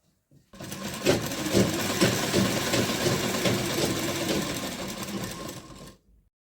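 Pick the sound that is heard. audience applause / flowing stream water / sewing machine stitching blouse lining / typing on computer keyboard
sewing machine stitching blouse lining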